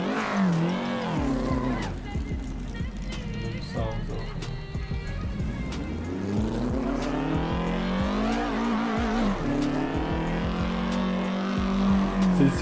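A Doğan SL's engine revs in the Assetto Corsa racing game on the Mulholland roads, rising and falling in pitch as the throttle is blipped. It is loud and continuous throughout, with a voice talking over it.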